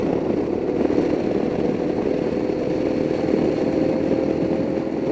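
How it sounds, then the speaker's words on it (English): Heavily modified Royal Enfield Himalayan motorcycle engine running steadily, a constant buzzing idle with a rough, even texture, moderately loud and alone. "The bike has a good sound."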